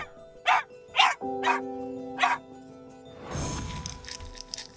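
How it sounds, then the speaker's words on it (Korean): A 14-year-old dog barks inside a car, four loud, hoarse barks in an uneven rhythm over a steady engine hum, followed by a burst of rustling noise and fainter yelps. "이 짖는 것도 심해지는 모습이었는데요"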